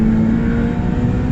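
A Ferrari 488 Challenge race car accelerates hard on a track, its engine a loud, dense, continuous roar with a steady tonal drone, heard close up with no talk over it.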